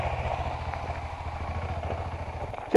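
Adventure motorcycle engine during off-road training in Labertouche, Victoria, a low steady throbbing idle building gradually, ending in a sudden loud burst near the close.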